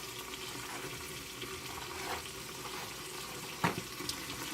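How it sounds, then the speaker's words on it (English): Tap water running steadily into a sink during handwashing, a soft continuous hiss with a brief clunk or splash near the end. "I'm going to leave that water running"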